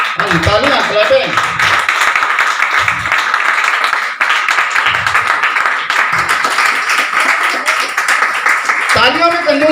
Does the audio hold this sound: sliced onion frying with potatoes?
no